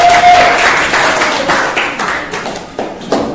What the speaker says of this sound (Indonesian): Beri tepuk tangan dong untuk kelompok 1